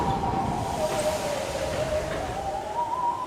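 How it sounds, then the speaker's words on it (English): Eerie, alien-like droning noise from the UK dub of Thomas, heard in fog: a wavering tone over a dense wash of noise, continuous and fairly loud with no voices. "the mysterious noise the engines hear in the fog sounds like this"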